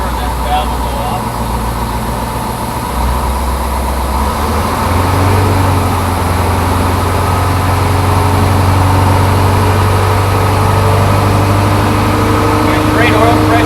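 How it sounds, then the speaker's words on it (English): Crane diesel engine started with a key and settling into a steady low idle, a continuous rumbling drone with a faint hiss of air pressure building. "So I'm going to turn the key on and fire it up."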